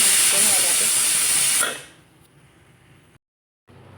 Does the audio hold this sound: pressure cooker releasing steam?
yes